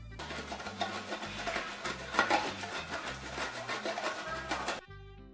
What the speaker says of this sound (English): Now the marzipan is chilled and firm, which makes it much easier to grate coarsely